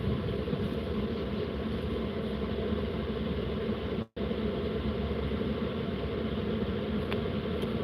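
A diesel heater runs during fall car camping, a steady low mechanical hum with no voices, broken once by a very short dropout midway.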